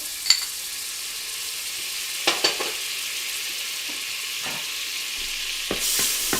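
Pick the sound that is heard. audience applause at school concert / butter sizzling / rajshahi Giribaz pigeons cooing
butter sizzling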